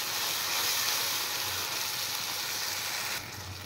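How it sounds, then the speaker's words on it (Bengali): A spice paste of cumin and chilli powder, onion, ginger and garlic fries in a pan with a dense, steady hiss. It stays loud, drops slightly near the end, and no one speaks. "এবার মশলাটা আমি ভালো করে ফ্রাই করে নেব।"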